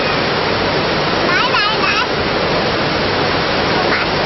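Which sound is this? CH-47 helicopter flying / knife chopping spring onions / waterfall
waterfall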